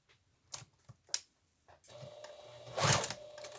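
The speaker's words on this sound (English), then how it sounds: "Okay, and start sewing." Sewing machine stitching a fabric face mask with an adjustable nose piece: a few short mechanical clicks and taps, then a fast whirring run of stitches, close and fairly quiet, with no talk.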